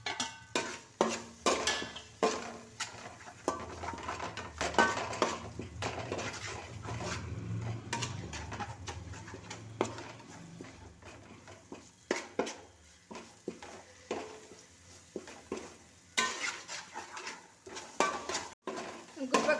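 Curry leaves dropped into oil for anchovy pickle and stirred, with steady metallic clinks and scrapes of a spoon against the pan throughout, a faint sizzle underneath, close by.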